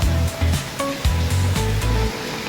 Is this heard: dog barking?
no